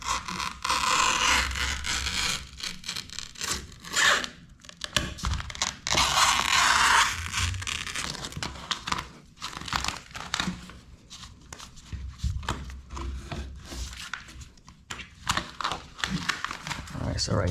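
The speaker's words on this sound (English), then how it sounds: "we're gonna take a box cutter and just cut alongside either the molding or your floor" A box cutter slicing self-adhesive wallpaper along the molding or floor edge, with creaking, crinkling scrapes of the blade and paper, close and fairly loud, alongside some talk.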